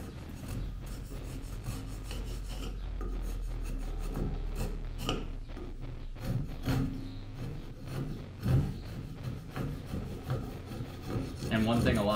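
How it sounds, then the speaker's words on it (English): A wood rasp filing an axe handle, with repeated scraping strokes in an uneven rhythm, close up and fairly quiet. "you can use the rasp when you want to like be a little bit more"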